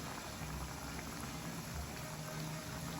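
Sweet ghughra pastries fry in oil on a low flame, a dense, even fizzing of gently bubbling oil that stays close and steady throughout.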